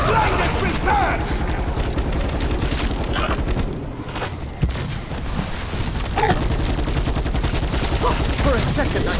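Rapid automatic gunfire from a Call of Duty: Black Ops 4 match, dense continuous bursts of shots close and loud, briefly thinning mid-way before resuming, with voices talking over the shooting.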